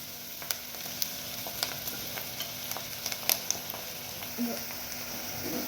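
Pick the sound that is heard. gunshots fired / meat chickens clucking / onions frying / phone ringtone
onions frying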